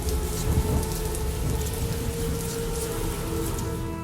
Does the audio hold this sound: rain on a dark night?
yes